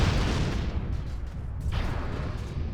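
LRM missiles launching and exploding in MechWarrior Living Legends on a Highlands map: a dense, continuous barrage of rumbling blasts and crackling bursts that rolls on without a break, with no voices.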